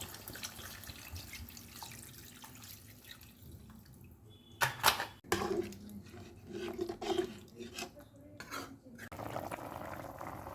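Water goes into a pot of chicken stew seasoned with ground black pepper: a low, steady trickle gives way to sharper splashes and clatter near the middle, then bubbling and stirring sounds nearby.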